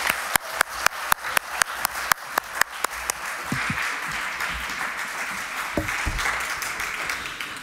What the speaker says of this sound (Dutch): maar eerst een applaus voor Renske Leijten